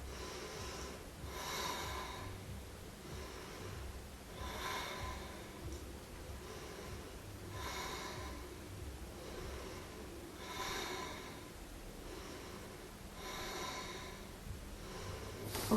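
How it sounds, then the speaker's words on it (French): Slow, deep breaths are taken through the nose while a yoga bridge pose is held, with the pelvis lifted high and the palms together. About six soft, even inhale-exhale cycles are heard up close in a quiet room. "Et je respire."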